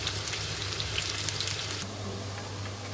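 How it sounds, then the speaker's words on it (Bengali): Potatoes fry for a chicken curry in a hot pan, a soft, even sizzle heard up close with a faint low hum underneath and slightly brighter crackle in the first half. "মুরগির মাংস আলুটা ভেজে নিব।"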